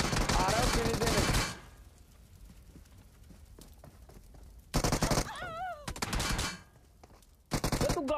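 Gunfire in the mobile battle royale game BGMI as players shoot at a vehicle: dense bursts of rapid shots at the start and again later, separated by quieter stretches of game sound, with players talking over it.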